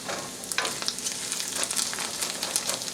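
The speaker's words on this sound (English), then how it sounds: "So I'll let those onions cook in there for a little bit" Onions fry in a pan, giving a steady, fairly quiet sizzle and crackle with brief stirring scrapes throughout, and no voices.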